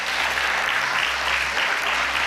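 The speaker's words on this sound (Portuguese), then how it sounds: "pode aplaudir ao Senhor" A church congregation applauding together during a sermon, a steady dense wash of clapping that stays even and fairly loud for a couple of seconds, with no one talking over it.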